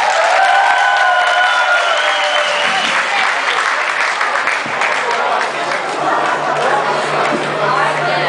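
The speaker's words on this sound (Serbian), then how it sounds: "izvolite pozdraviti jednim toplim aplauzom" Warm applause from a concert crowd greeting a singer on stage, a dense, loud wash of clapping that holds steady throughout, with faint cheers and chatter mixed in.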